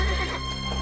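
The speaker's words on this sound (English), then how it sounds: "Big horse." A big horse gives a short neigh in an animated cartoon scene, a brief loud whinny with faint hoof clip-clop beneath it.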